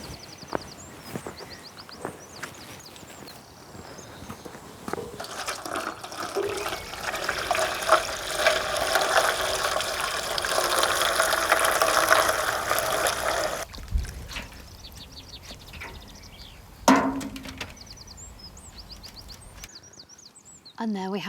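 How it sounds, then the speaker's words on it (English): Water pours steadily into an old tub set up as a garden pond in a pot, a continuous close splashing rush that swells over several seconds, then breaks off into quieter drips and clatter. "Now all I've got to do is fill it with water."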